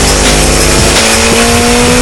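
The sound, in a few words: car engine revving at high RPM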